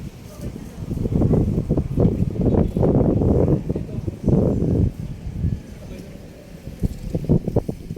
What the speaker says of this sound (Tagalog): dito muna lakas ng hangin